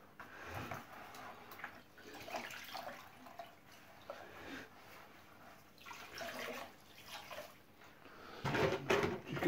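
Sponges from an Oase external aquarium filter are rinsed and squeezed in water, giving irregular sloshing, dripping and splashing bursts that grow louder toward the end, with no talking.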